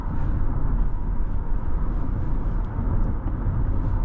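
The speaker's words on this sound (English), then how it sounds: "You hear that roaring V8." A deep, steady V8 engine rumble fills the cabin of a 2013 Lexus LS 460, low and continuous without pauses, heard from inside the moving car.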